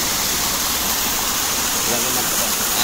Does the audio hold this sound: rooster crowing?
no